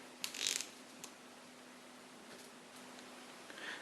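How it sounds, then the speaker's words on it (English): Plastic cap twisted off the upturned head of an All Pond Solutions Extended 1000EF/1400EF pond external filter, a short burst of clicking and rustling near the start with faint handling sounds after, no talk. "upturning the head and removing the cap like so"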